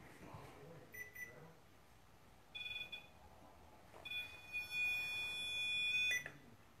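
A walkie-talkie with a dying battery emits short high electronic beeps at intervals, then a longer sustained tone, faint against a quiet background.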